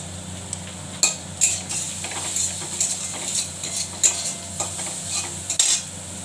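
Onions frying in a pan with salt and turmeric are stirred with a utensil, producing a soft sizzle under repeated scraping and clinking strokes at an irregular rhythm, close and fairly quiet, with no talking.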